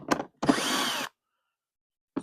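A power drill spins briefly to remove bolts from a VW heater box, a short whirring burst of about half a second between clicks and handling sounds, close and fairly quiet.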